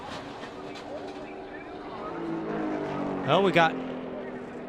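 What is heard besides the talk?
NASCAR stock cars racing past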